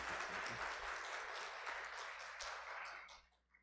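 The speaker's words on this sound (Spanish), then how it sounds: "Un aplauso" An audience applauds a doctor after a hospital talk on managing patient radiation doses: dense, continuous clapping that holds steady, then thins and fades out near the end.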